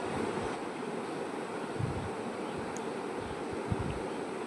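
Chopped tomato frying with ginger, garlic and green chili gives off a steady, even hiss that carries through the whole stretch with no voices.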